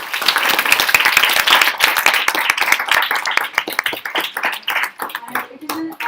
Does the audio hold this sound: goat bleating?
no